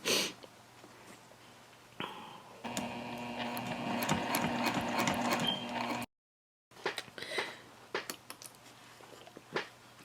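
A home sewing machine runs a short, steady burst of stitching along a zipper seam on a tote bag, a close mechanical whir with a rapid rhythm. A brief pause is followed by light handling clicks and taps.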